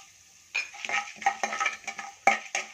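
A spoon scrapes and clinks in a pan of hot oil holding mustard seeds, cumin, chana dal and urad dal for beetroot palya, a few irregular stirring strokes over a faint sizzle, no voices.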